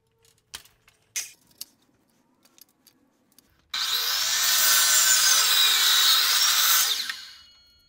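A power saw cuts through a wood board for a homemade preacher curl attachment: a few light taps and knocks, then a loud, close, continuous whining cut lasting about three seconds before it winds down.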